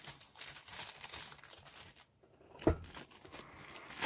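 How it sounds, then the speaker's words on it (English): A resealable plastic bag crinkles and rustles up close as a model kit part is packed away, with scattered crackles, a brief lull, then one sharp louder crunch and renewed soft rustling. "Just put this back in the bag so I don't lose it or damage it as well."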